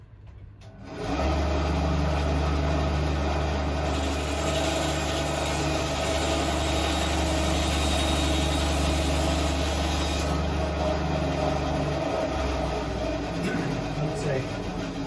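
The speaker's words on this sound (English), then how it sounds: "I'm just going to go across and cut it in bandsaw" A bandsaw spins up to a steady, droning whine and cuts through a guitar body from a Firebird kit, holding an even, loud hum for most of the clip before easing slightly near the end.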